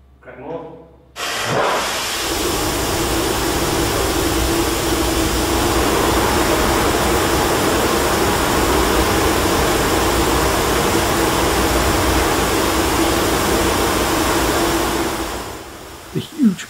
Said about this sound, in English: Huge blast overwhelms the microphones and one of the cameras